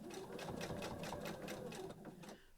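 A domestic sewing machine runs a seam on a beginner's storage caddy, a close, rapid, even mechanical stitching rhythm that slows and stops near the end.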